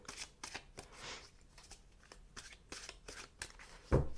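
Osho Zen Tarot cards being shuffled and drawn, giving a run of quick riffling flicks and soft papery slaps, close and fairly quiet, ending with a sharper snap as a card is pulled.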